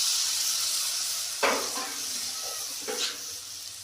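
Masala sizzling in a kadai on a wood-fired stove as water is added, a steady hiss with two sharper bursts of spattering partway through, close and fairly quiet, no talk.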